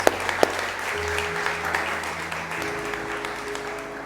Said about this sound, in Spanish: Nos damos unas fuertes palmas.